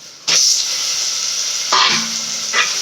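Onions and tomato hit hot oil with a sudden burst of sizzling that settles into a steady hiss. Two more bursts flare up as pieces are added or stirred.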